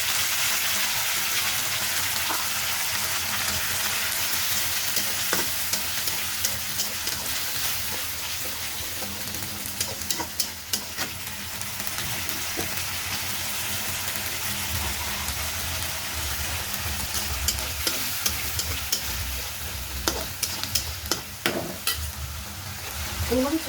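Ginger-garlic paste frying with onions in a pan for chicken bhuna: a steady close sizzle with repeated spatula stirs and scrapes, moderately loud, no voices.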